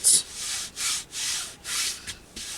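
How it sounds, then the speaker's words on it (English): Rhythmic rubbing strokes of a hand pressing down a journal cover piece so it sticks firmly, five close, moderately loud passes with brief pauses between, no talk. "you just really want to rub that down, make sure it is sticking very well"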